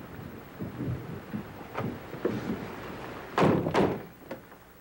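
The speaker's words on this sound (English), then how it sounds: "Aren't you going to shut the door?" Door being shut in a home doorway: a few soft thunks and knocks, then two sharper, louder thuds close together near the end, heard alone without talk.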